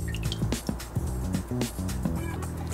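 Bourbon and butterscotch schnapps are poured for a salted caramel shot, heard as close glugging and bubbling liquid with a trickling, dripping pour that swells and fades over a background hum.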